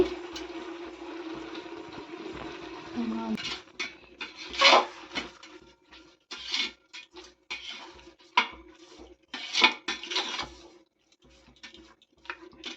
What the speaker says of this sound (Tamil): இந்த காளான் நல்லா வதங்கட்டும் தேவையான அளவு உப்பு போட்டாச்சு